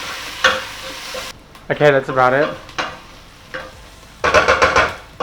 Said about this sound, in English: Just mix this up and cook this for about 5 minutes.